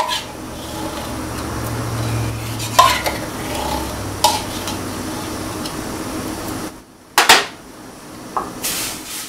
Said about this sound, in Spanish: Y aquí vamos a estar sin dejar de mover para que no se vaya a pegar abajo la leche.